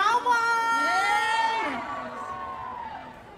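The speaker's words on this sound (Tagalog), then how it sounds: "Palakpakan na may kasamang sigawan!" Fans at a Vilma Santos meet and greet and book signing scream and cheer together in a loud, sustained chorus of high voices that gradually fades.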